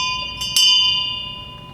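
A single memorial bell strike for departed USS Parche submariners at a reunion rings out loud and clear, its bright tone sustaining and slowly decaying, with a faint earlier strike still ringing beneath it.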